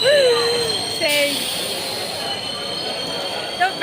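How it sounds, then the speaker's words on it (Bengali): A Bandel-bound suburban train pulls into a station near Sheoraphuli, its wheels squealing in high, sustained metallic whines over a low rolling rumble, loud and close. "তো ব্যান্ডেলের ট্রেন ঢুকে গেল"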